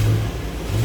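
A Ford Explorer with a MagnaFlow exhaust and deleted mufflers revs in a short, loud, steady low rumble close by.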